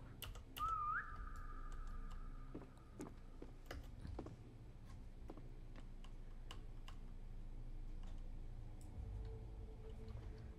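A player character in the Roblox game SCP 3008 whistles one short rising then held note, followed by scattered clicks and ticks over a low, steady in-game background hum.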